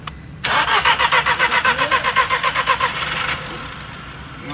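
A VW GTI engine cranks with a rapid, even rhythm of starter pulses for about three seconds, then settles into a steady, quieter run, all close and loud with no talking.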